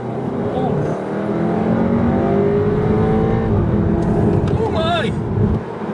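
A 2018 Skoda Superb 280PS Sportline with DSG gearbox and 4x4 accelerates hard in third gear, its engine note climbing steadily under a rising rush of road noise while occupants talk and exclaim over it.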